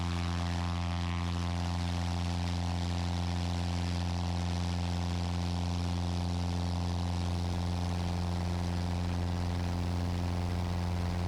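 A Cessna 150 light plane's piston engine runs at full power for the takeoff roll at Pendleton, a loud, steady propeller drone with strong harmonic hum that holds constant throughout.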